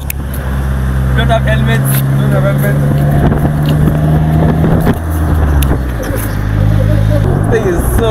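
A Polaris Slingshot three-wheeler drives along with a steady, loud engine drone and shifting pitch, people talking over it throughout.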